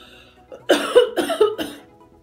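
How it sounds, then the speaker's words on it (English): A person coughs after breathing in a strong, chemical-smelling skincare product with little beads, a short close burst of about three harsh coughs. "I inhaled that and it made me cough."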